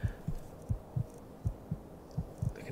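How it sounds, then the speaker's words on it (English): Heartbeat pulsing in Skyrim, a steady double thump repeating about every three-quarters of a second, low and muffled over a faint hum. "I can hear that. My heart beating in my ears."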